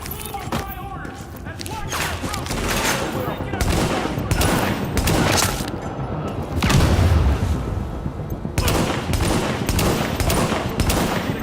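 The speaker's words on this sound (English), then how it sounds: "Reporting gunfire in the station above us." Rapid game gunfire from The Division rattles through a dense, loud battle mix, with bursts and booms layered over background radio chatter throughout.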